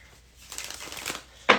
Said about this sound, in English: One more shuffle for Cancer.